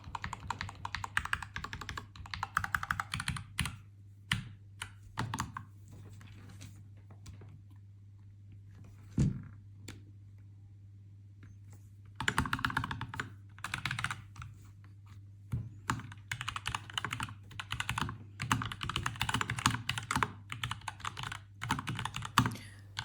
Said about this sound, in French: vous allez entendre le son qu'on peut avoir une fois que votre clavier a déjà été modé précédemment au niveau du son,